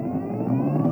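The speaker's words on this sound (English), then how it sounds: "That is my electric scooter." A Gogoro 3 electric scooter gives off a smooth, steady electric whir with a slight rising tone, heard up close and alone for about a second.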